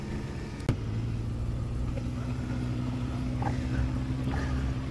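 A motorcycle engine on a Yunus police closed-area training course, with a steady low idling hum that rises slightly in places and a sharp click near the start, heard continuously and fairly close.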